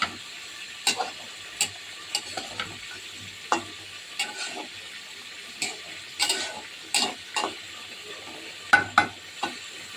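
Cauliflower, new potatoes and flat beans fry in a pan with shol fish. A soft, steady sizzle runs throughout, broken by irregular scraping clatters from a spoon stirring against the pan.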